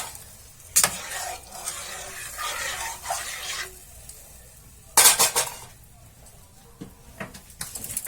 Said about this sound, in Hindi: उसको डाल दूंगी और इसे मिला लूंगी।